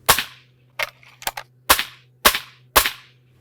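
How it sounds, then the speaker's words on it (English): A Crosman MTR77 NP .177 air rifle fires lead-free pellets, six sharp, loud cracks spaced roughly half a second apart over a low steady hum, each shot close and crisp. "the pellets came cracking out of the barrel at supersonic speeds"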